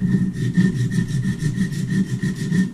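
Knife blade, a Boker Auto Kalashnikov, being sharpened on Wicked Edge precision sharpener stones, a steady rhythmic back-and-forth rasp of repeated strokes, close and fairly loud, with no talking.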